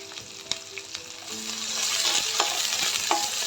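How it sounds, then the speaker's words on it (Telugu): Masala and onions fry in oil for a biryani, a close sizzle that builds steadily, broken by sharp clinks and scrapes of a stirring spoon, with no voices. "ఆయిల్లో మసాలా వేసేసి ఆనియన్స్,"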